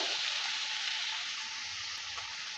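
Potatoes and squash fry in hot mustard oil for a Bengali squash ghonta, giving a steady, dense sizzle that stays loud and even throughout with no voices.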